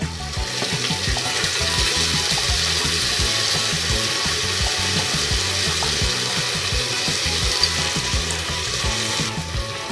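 Soaked urad dal tipped into a hot pan with oil, giving a dense, loud, steady sizzle and crackle that keeps up throughout, with faint rhythmic scraping beneath.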